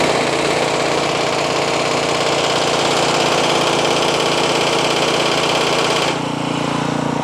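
A Troy Bilt snow blower engine runs loud and steady with its impeller engaged, a rough, droning mechanical roar that holds constant before dropping slightly in pitch near the end; no one speaks.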